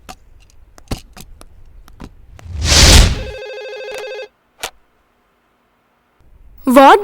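Telephone ringing indoors in a Telugu film scene, a single loud electronic bell burst after a few soft clicks, followed by silence and a voice starting at the end.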